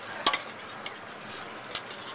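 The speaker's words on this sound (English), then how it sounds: "That will be mixed around, making sure to incorporate it well with everything else." Onion, ginger and other ingredients for a Keralan fish curry being stirred in a pan over a soft continuous sizzle, with a few light scrapes and taps of the spoon against the pan.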